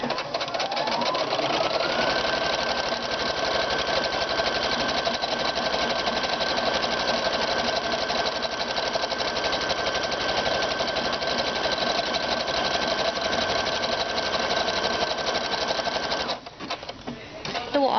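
Sewing machine stitching a buttonhole automatically, a steady fast needle chatter with a motor whine running continuously for about sixteen seconds before stopping, close and loud.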